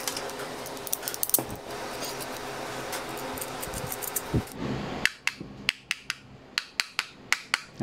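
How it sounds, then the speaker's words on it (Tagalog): Close mechanical clatter and rattling on an electric fan motor that has just been oiled, then a run of sharp, evenly spaced metallic taps on the motor shaft to realign it, ringing out alone. "Pukpukin lang natin dito para mag pre-wheel siya, para matanggal siya sa pag disalign"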